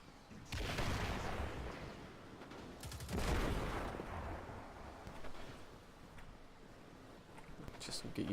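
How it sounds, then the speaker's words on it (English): Explosions and bursts of gunfire in the video game Destiny 2, loud blasts near 0.5 and 3 seconds followed by a continuous rumbling barrage with scattered shots, with speech over the top. "Just get used to the random explosions going off."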